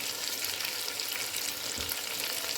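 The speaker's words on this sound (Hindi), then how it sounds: "और इनकी बुनाई रखेंगे जारी।" Chopped tomatoes sauté in a hot pan for a chicken leg biryani, giving a steady, dense sizzle and crackle that holds evenly from start to end, with one soft low thud partway through and no voices.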